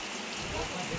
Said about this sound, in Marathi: आणि इतका पाऊस सुरू